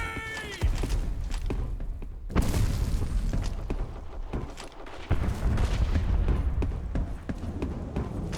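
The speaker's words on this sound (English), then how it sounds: "Grenade!" Grenade blast in the first-person shooter Black Squad during a 5v5 Demolition match: heavy booming thuds and bursts of gunfire layered over continuous battle noise, loud and close throughout.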